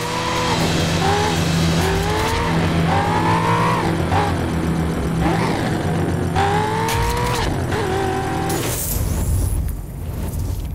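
Cars race through the streets of Miami in the video game The Crew, with engines revving up and down through gear shifts, tires squealing, and dense loud traffic noise throughout.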